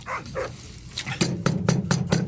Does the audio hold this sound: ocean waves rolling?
no